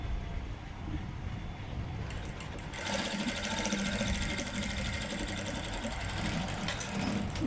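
A sewing machine stitches a blouse seam in steady continuous whirring runs, growing louder and busier partway through, with no voices over it.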